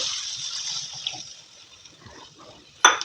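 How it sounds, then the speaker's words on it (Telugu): Gram flour mixed with water poured into a simmering potato curry, a soft steady trickle and gurgle close by that fades, ending with a brief sharp clatter. "ఇప్పుడు ఒక స్పూన్ శనగపిండి తీసుకొని అందులో కొంచెం వాటర్ వేసి కలిపెట్టుకున్నాను ఇదిగోండి ఈ శనగపిండి వాటర్ వేస్తాను"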